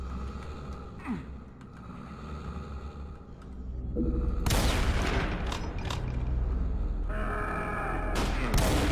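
Rockets fire and explode in the first-person shooter Brutal Doom 64. Rumbling blasts and crackling bursts build into a dense, loud barrage over the second half after a quieter start.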